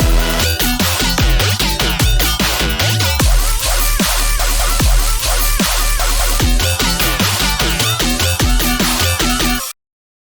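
The B section of an electronic music drop plays loud and dense, with punchy drums and layered synths driving steadily before cutting off abruptly near the end.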